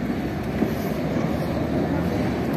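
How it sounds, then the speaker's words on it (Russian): A tram at a city tram stop, a steady low rumble of the rail vehicle with no clear individual events, close and moderately loud. "У нас здесь трамвайчики."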